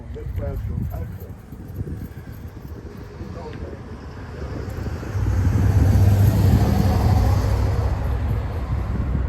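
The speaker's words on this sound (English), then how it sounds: "That car's going this fast, going out there." A car speeds past on a road, its roar swelling to a loud, close rush partway through and then holding, with wind buffeting and someone talking early on.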